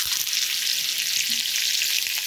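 Green chillies dropped into hot oil already tempered with mustard seeds for upma, giving an even, hissing sizzle throughout, close up with no voices.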